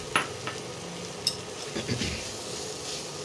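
Boiled chicken pieces going into a pan of hot masala for chicken tadka, giving a soft sizzle with a few scraping stirs and light clinks, fairly quiet and close.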